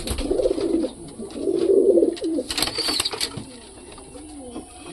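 Pigeons in a pigeon house coo in soft, throaty bursts, two longer rolling phrases followed by scattered shorter calls, close by, with faint rustling and a little background noise.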